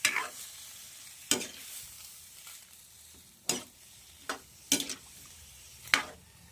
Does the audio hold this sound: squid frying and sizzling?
yes